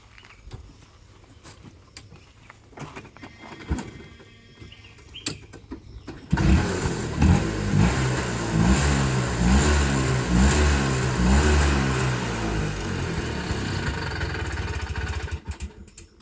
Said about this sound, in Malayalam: അതുപോലെ തന്നെ വണ്ടി ഒറ്റയടിക്ക് സ്റ്റാർട്ടാവും കാണിച്ചു തരാം